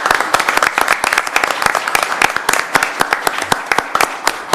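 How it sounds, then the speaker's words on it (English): A modest group at a city commission work session claps in a round of applause, with sharp, close individual claps in an uneven patter that continues without letting up. "So if we could just give a big round of applause to all of them."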